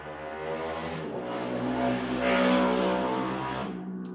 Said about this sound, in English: I try not to worry too much about traffic noise